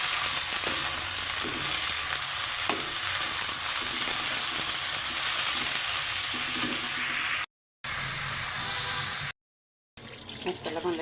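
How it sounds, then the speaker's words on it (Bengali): Cabbage and leafy greens fry in a pan with a steady sizzle and occasional stirring scrapes, broken by two brief moments of silence near the end. "এখন আসি কোনো রকম একটা বাঁধাকপি ভাজি করছি আর শাক ভাজি।"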